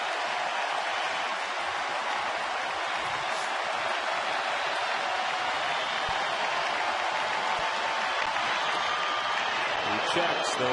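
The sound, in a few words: baseball stadium crowd getting louder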